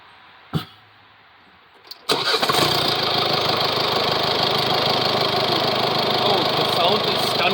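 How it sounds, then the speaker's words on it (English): A 2022 Mercedes V-Class with a new 4-cylinder engine cranks and fires after a couple of faint clicks, then settles into a loud, steady idle that drones on evenly, close by. "Now I would like to start the 4-cylinder."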